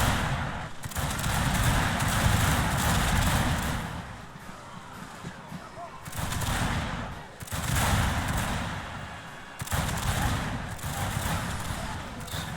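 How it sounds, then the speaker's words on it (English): Volleys of artillery and infantry gunfire boom and crackle in the Shogun 2 Fall of the Samurai battle game, loud dense bursts in waves with brief lulls between them. "I'm gonna prepare to open fire with artillery"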